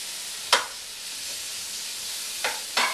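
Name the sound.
mushrooms frying in a pan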